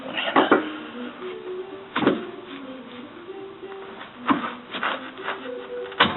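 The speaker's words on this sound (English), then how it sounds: "I'm just going to take it off with the 18mm wrench" An 18mm wrench works a front suspension bolt on an Integra, making sharp metallic clanks roughly every two seconds with faint squeaks between, fairly quiet and close.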